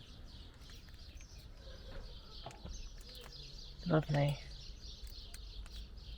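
Small birds chirp and tweet repeatedly in the background at an overnight park-up spot in a small Spanish village, fairly faint and distant, with a voice briefly speaking close by.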